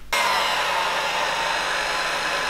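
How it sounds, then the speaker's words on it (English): A hair dryer switches on abruptly and blows a steady, loud, even airflow to dry airbrushed paint, with no one talking over it. "You can use a hairdryer"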